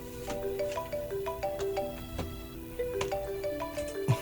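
Cellphone ringtone playing close and clear, a repeating melodic pattern of short bright tones in a steady rhythm for several seconds, with no talking over it.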